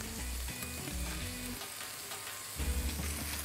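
Garlic fries in a pan with chicken breast pieces in a TV cooking-show kitchen, giving a steady close sizzle with some stirring, heard under background music.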